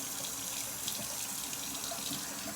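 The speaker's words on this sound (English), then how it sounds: "hopefully the water running isn't too loud" Lukewarm water runs steadily from a bathroom tap into a sink, a continuous close hiss and splash with no talking.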